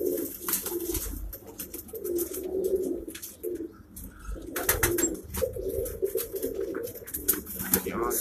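Pigeons coo in low, throaty repeated phrases, close and clear, with people talking intermittently over them and occasional bursts of wing flapping and rustling.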